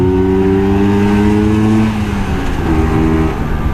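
A Vespa scooter engine revs steadily and close, holding a strong buzzing pitch for about two seconds before dropping back to a rougher idle, then rising briefly again with no talk over it.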